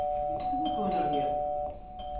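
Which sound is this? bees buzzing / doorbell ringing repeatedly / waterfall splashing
doorbell ringing repeatedly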